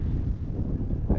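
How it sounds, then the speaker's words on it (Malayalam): Strong wind blowing across the microphone at the Devala Hatty hilltop viewpoint near Gudalur, a steady low rumbling buffet throughout, with no voices. "നല്ല കാറ്റ് കിട്ടുന്നുണ്ട്."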